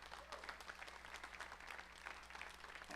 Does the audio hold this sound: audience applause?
yes